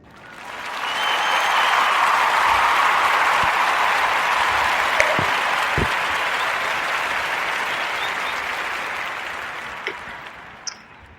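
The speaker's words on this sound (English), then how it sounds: "give a warm narrative podcast round of applause for Miss Ida Keeling." An audience gives a warm, sustained round of applause for Miss Ida Keeling at a live narrative podcast taping, the clapping swelling quickly, holding steady and full for several seconds, then tapering off with a few stray claps.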